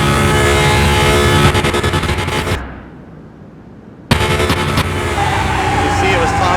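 A Nissan GT-R in Car Mechanic Simulator 21 accelerates hard, its loud engine roaring, cutting out abruptly for about a second and a half and then roaring again at full volume.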